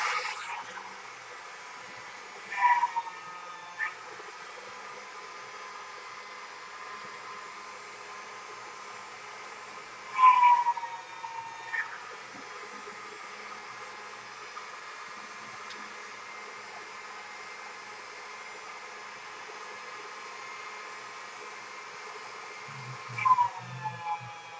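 A machine for working polymer clay, likely a pasta roller in a warm tent, runs at medium setting with a steady hum, punctuated by three louder bursts of clatter near the start, middle and end.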